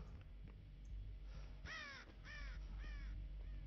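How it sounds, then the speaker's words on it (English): Crows caw three times in Dead by Daylight, each a harsh descending call spaced about half a second apart. The calls sound moderately close over a low, steady ambient rumble, with no talking. "Alright, there's crows."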